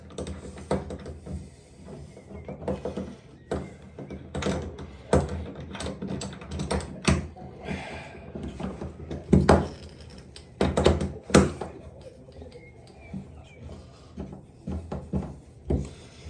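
A chrome thermostatic bar shower column is bolted onto its wall fittings, with irregular close knocks, taps and metallic clunks scattered over several seconds and no one talking.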